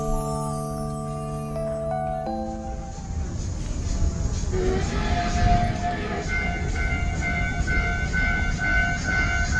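A small children's ride-on train on a rooftop garden in Hakata, Fukuoka, rumbles along steadily as a tonal chime rings out, then bright high beeps repeat over the continuous rolling noise.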